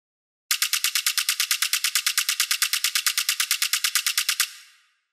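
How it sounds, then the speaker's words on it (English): High rim clicks from a club track drum group fire in a fast, even rapid-fire stream of about forty bright, crisp hits over four seconds, alone and up close, with a short tail at the end. "the last sound in the drum group are some high rim clicks"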